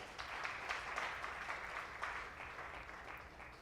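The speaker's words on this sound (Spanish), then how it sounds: "Denle un aplauso fuerte al Hijo de Dios" A church congregation claps during a sermon, a fairly faint, steady round of applause that tapers slightly toward the end.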